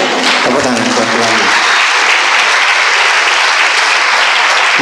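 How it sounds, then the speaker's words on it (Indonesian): A large congregation at a sermon applauds loudly and steadily, dense clapping filling the whole stretch, with a brief voice or tone at the start. "Tepuk tangan buat Tuhan."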